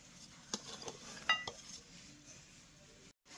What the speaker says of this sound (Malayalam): കോവയ്ക്ക ഒരു പാത്രത്തിലേക്ക് ഇടുന്നു